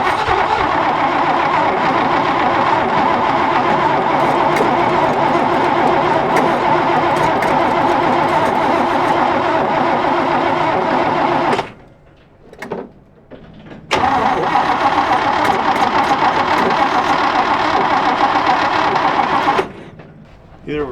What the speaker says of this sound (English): I think I flooded the engine now, so let's see if we get this choke to open up